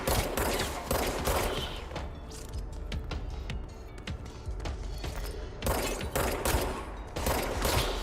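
Rapid bursts of gunfire from the video game Control crackle densely and loudly throughout, with repeated volleys overlapping and no pause in the shooting.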